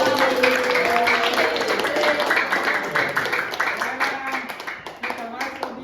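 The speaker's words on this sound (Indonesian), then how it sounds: "Sekarang tepuk tangan dulu untuk temannya." Classroom students clapping for a group of classmates after their presentation, a steady burst of hand claps that tapers toward the end, with voices mixed in under the clapping.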